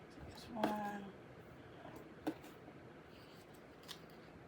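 Scissors cutting through stacked paper pieces, a short crisp snip near the start followed by a couple of faint clicks, close and quiet.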